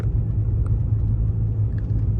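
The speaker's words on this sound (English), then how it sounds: "right now, straight pipe, and y'all can tell, just normal driving, it sounds fine" A car with a straight-pipe exhaust drives along at normal pace, its engine giving a steady, loud, low rumble throughout with no voices.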